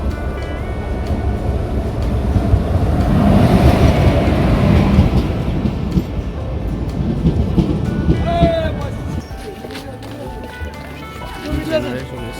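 A train pulls into a station with a deep rumble that swells to a peak midway and then eases off, mixed with voices and platform chatter.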